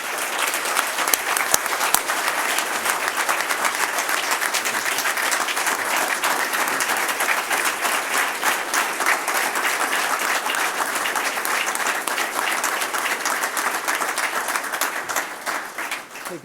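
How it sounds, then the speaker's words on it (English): Sustained, loud applause from an audience at a lineman training class graduation, dense clapping holding steady for the whole stretch before easing slightly at the end, with no talk over it. "So I'd like for you to give him a big applause for what he went through."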